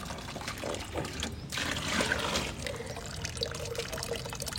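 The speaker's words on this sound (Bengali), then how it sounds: "গাছে একটু জল দেবো" Water pours and trickles steadily over potted garden plants with white, red and pink flowers, a close, continuous splashing wash with no talk.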